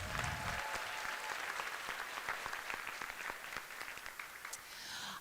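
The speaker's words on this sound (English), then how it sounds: "let's give them a giant round of applause and thank them for helping" Applause for the judges at a national jigsaw puzzle competition: many hands clapping steadily for several seconds, fairly distant and even, slowly thinning toward the end.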